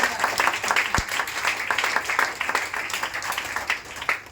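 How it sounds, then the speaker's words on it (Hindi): An audience claps at a Hindi motivational speech event, a fairly faint, uneven patter of hand claps running throughout with a sharp single thump near the start. "बहुत बढ़िया, ताली बजाओ भाई।"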